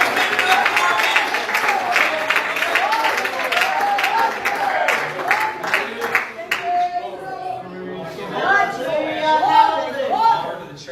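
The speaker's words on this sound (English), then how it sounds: "Let's give him a hand clap of praise." Church congregation at a youth service clapping hands in praise, a dense burst of claps with shouting and chatter mixed in, thinning after about six seconds into scattered voices and singing-like tones.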